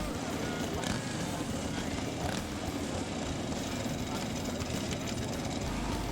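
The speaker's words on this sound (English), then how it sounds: "And here we have Gary Beaumont on his 108 cubic inch SS engined Harley drag bike." A Harley drag bike with a 108 cubic inch SS engine at a drag racing event roars continuously, a loud broadband engine rumble mixed with crowd and track ambience.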